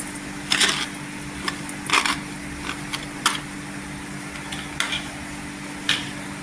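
Dried fish (sukat) being added to a pan with onion, tomato and green chili and stirred, heard as sharp metallic clinks and scrapes spaced irregularly over a steady low hum, with no talking.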